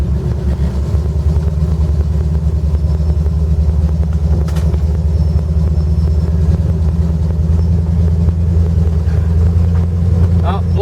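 An off-road vehicle's engine rumbles steadily and loudly on a slippery, rain-soaked trail, a constant low drone throughout with no break.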